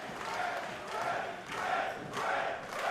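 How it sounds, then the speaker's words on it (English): A wrestling crowd at a match roars behind the challenger, Fred Rosser against Tom Lawlor, as a loud, surging crowd noise that swells and fades in rhythmic waves, like a chant. "Crowd rallying behind the challenger here"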